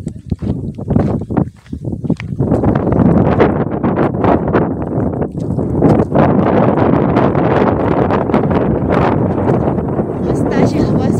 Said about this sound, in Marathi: मस्त अशी हवा सुटली इथे.